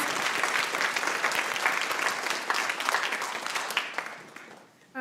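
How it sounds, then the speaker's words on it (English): Audience applause fills an animation festival screening for short films and motion design, dense sustained clapping from a crowd that tapers off near the end. "let's give another applause for Christopher and Magnus for their film"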